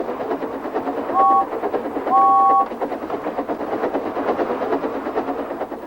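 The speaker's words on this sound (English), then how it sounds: "So steam engines blow their whistles" A steam engine whistle sounds twice, a short blast then a longer one, each a steady pair of tones over continuous train rumble and narration.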